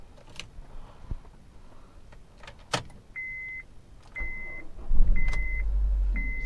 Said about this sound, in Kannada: ಬನ್ನಿ ಇಂಜಿನ್ ಸ್ಟಾರ್ಟ್ ಮಾಡೋಣ.